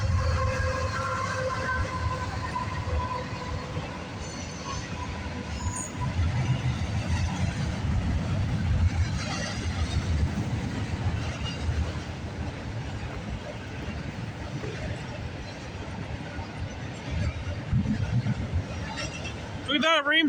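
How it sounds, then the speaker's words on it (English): A freight train with a distributed power unit rolls past steadily at night at a trackside crossing, a continuous rumble and clatter of cars lasting throughout, with a brief horn-like tone near the end. "This train's got a DPU on it."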